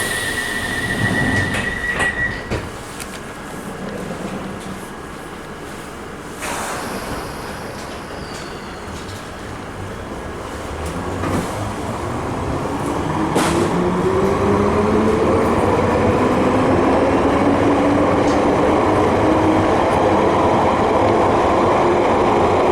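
A London Underground Piccadilly Line 1973 stock train running toward Heathrow, heard from inside with a loud continuous rumble and clatter, building steadily as it speeds up, with rising motor whines and brief wheel squeals, no talking.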